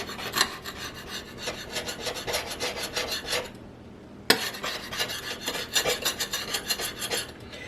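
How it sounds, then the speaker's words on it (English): Scraper rasping grit off a glass cooktop in rapid repeated strokes, close and crisp, with a brief pause before a sharp click and another burst of scraping. "So it's time to get my scraper out."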